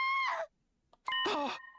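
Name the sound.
scream in The Hundred Line video game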